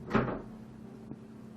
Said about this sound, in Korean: 저희 아들이 문을 열어가지고 소음이 좀 들어갔어요